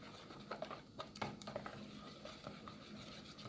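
A spoon mixes banana bread batter of sugar, melted butter and room temperature egg in a bowl, giving soft, irregular scraping and tapping strokes close by at low volume.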